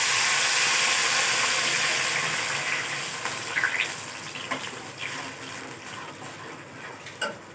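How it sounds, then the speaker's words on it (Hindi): A glass of water is poured into a pan of browned onions for tarka rice, a gushing splash that fades over several seconds into softer bubbling and scattered clinks. "अच्छा, अब हम 1 गिलास इसमें पानी शामिल करेंगे।"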